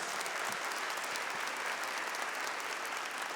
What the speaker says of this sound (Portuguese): Aplauda isso mais uma vez.